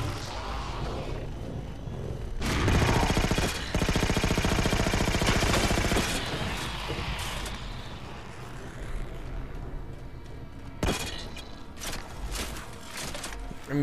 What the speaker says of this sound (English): the gun shoots really fast